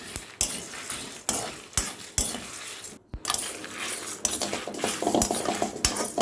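A metal spoon scrapes and knocks repeatedly against a pan, sharp clinks every half second or so over dry rustling of spices, sesame seeds and curry leaves being dry-roasted and stirred.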